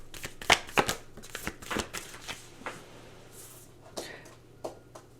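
Oracle cards being shuffled by hand, a series of crisp riffling and slapping bursts, close and fairly quiet, spaced irregularly over a few seconds.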